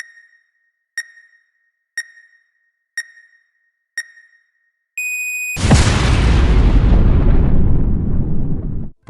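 Five evenly spaced electronic beeps count down, then a tone rings and a massive explosion erupts into a loud, sustained roar that rumbles on for several seconds before slowly fading.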